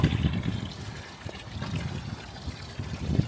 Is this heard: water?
yes